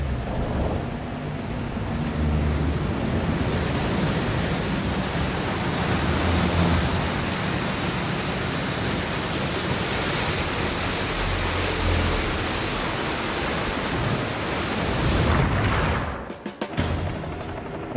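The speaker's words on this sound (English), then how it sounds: "a wall of water engulfs the ship" Roaring rush of seawater floods the hangar deck of the USS Oriskany as the aircraft carrier sinks after detonation, a loud, steady broadband wash holding for about fifteen seconds before cutting off abruptly.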